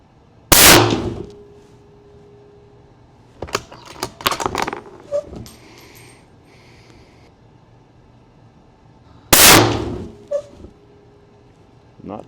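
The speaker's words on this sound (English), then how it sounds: "shooting a rifle just like any other consumer would" Two sharp, loud rifle shots fired toward a 100-yard target, spaced several seconds apart, with clanks and mechanical handling noises from working the action between them.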